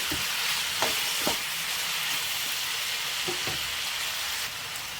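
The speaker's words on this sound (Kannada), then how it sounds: "ಸ್ವಲ್ಪ ಚೆನ್ನಾಗಿ ಬಾಡೋವರೆಗೂ ಚೆನ್ನಾಗಿ ಫ್ರೈ ಮಾಡ್ಕೊಳ್ಳಿ" Tomatoes frying in a pan for a restaurant-style mushroom gravy, a continuous close sizzle broken by several soft scraping knocks from a spoon stirring the mixture, with no talking.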